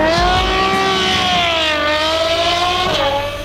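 A naturally aspirated 6.3-liter V12 engine in an Opalo IE car, 780 horsepower, sounds loud and close as a steady, high-pitched wail that holds its pitch, then rises briefly near the end.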